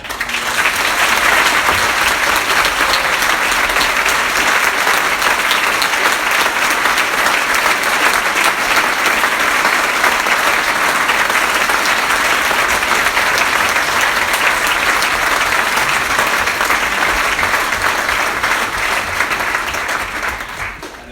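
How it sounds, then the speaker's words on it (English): Large audience at a live event giving the staff a long round of applause, a thick sustained roar of clapping that holds steady for about twenty seconds before tapering off at the end. "I think we need a huge round of applause for the staff"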